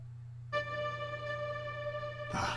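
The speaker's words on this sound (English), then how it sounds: "This reverb tail is amazing." A sustained instrumental chord rings steadily with a long, smooth reverb tail, then a brighter noisy burst swells near the end.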